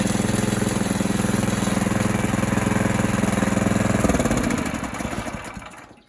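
A DTZ 470B walk-behind tractor engine running in low reverse gear, a loud rapid single-cylinder chug that holds steady, then shifts and winds down toward the end.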